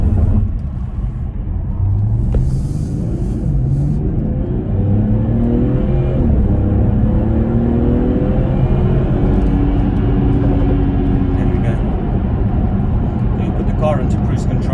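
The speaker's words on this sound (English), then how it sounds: "So we're going to get it up to speed, could put it on cruise control at 70 miles an hour" A 2016 BMW 440i M Sport automatic accelerates up to 70 mph on a motorway. Its engine drone climbs steadily in pitch under constant road and wind roar, heard from inside the cabin.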